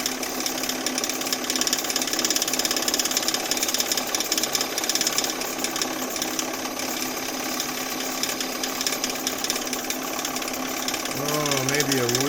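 A wood lathe turns a lidded piece with a steady whirring drone and a constant scraping hiss from the cutting tool. Someone speaks over it near the end.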